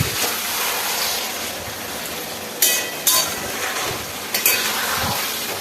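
Marinated dhaniya chicken fries hard in a pan over full flame, giving a steady loud sizzle throughout with a few sharp stirring clinks and scrapes.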